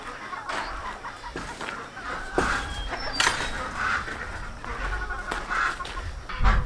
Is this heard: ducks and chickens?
yes